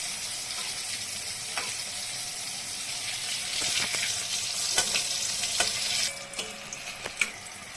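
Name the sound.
eggplant frying in oil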